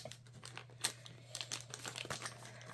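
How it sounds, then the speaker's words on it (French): An Advent calendar package for cross-stitch is unwrapped up close, giving soft, irregular crinkling and tearing of wrapping with a few sharper rustles. "Donc voilà, je vais le déballer."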